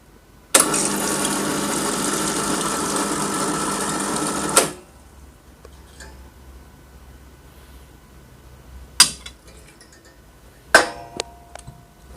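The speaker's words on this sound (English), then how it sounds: "let's run some hot water to heat up the glass" Hot water runs from an Elaine M3 espresso machine into a glass in a loud, steady hiss for about four seconds before cutting off sharply, followed by a few light clicks and knocks in the quiet.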